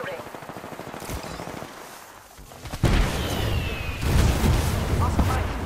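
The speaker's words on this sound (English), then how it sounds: "I'm under fire." Video game combat with bursts of automatic gunfire and heavy booming impacts, starting quietly, then growing loud and dense partway through, with game voice callouts mixed in.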